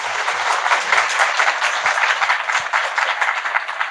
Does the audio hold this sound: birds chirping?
no